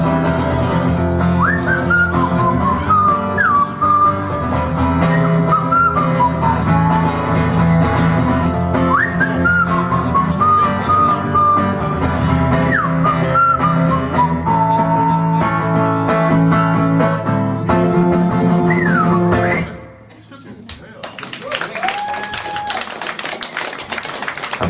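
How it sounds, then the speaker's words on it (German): A clear whistled melody carried over a steady musical accompaniment with tapping rhythm, loud and close; near the end the music drops and clapping follows. "das Pfeifen, das gehört ganz unbedingt zu diesem Lied."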